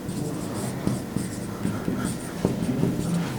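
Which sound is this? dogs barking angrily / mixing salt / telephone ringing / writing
writing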